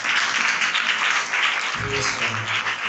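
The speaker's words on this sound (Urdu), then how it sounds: "اس بات کے لیے ہم تالی بجا سکتے ہیں۔" Congregation clapping during a Pakistani Urdu-language church sermon: loud, dense, continuous applause close by, with a brief low voice murmuring underneath partway through.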